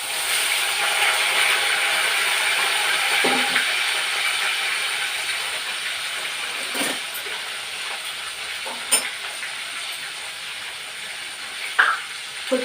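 Dried salted fish frying in hot oil with cumin, a steady broadband sizzle and hiss holding throughout at moderate level, with a few faint clinks and scrapes of a utensil near the end.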